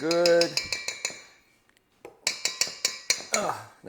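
Spoon scraping and clinking bacon grease out of a strainer container, a quick series of sharp metallic taps, a short pause, then another run of clinks close up.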